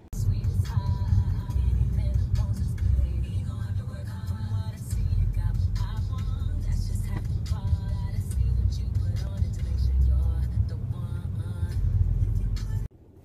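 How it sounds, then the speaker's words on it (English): A car creeping through bumper-to-bumper traffic, with a steady low engine and road rumble running throughout and faint clicks and small sounds on top, before it drops away at the very end. "I am in bumper to bumper traffic on the way there."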